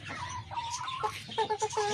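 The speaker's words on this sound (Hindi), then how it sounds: "यहाँ पे भी बड़ी बड़ी मुर्गियाँ" Hens clucking close by in a steady, busy chorus of short, throaty calls over a noisy farmyard background.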